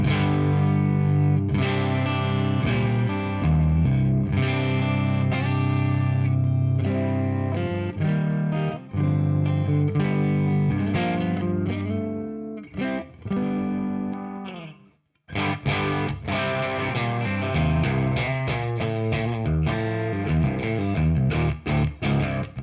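Electric guitar played through a UAFX MAX pedal into a crunchy amp with reverb, loud distorted chords and riffs ringing out continuously with short pauses and a brief drop near the middle.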